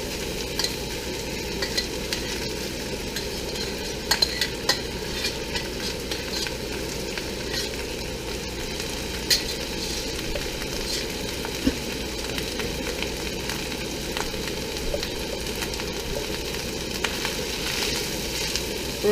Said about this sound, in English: We're just going to mix in our vegetables and cook in our rice.